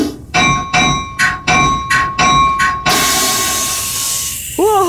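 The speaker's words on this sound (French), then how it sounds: "C'était quoi ce bruit d'air? C'était l'air qui contrôle la cloche." Compressed air on a train locomotive's bell control gives a run of short, sharp hissing bursts with a ringing tone, then one long sustained hiss that fades, followed by a brief rising voice sound at the end.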